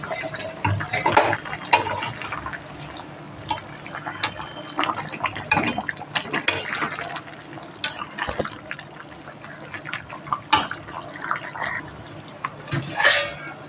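Fish curry broth made with singi fish bubbles in a pan, a soft irregular gurgling and spluttering with occasional sharper splashes and clinks throughout.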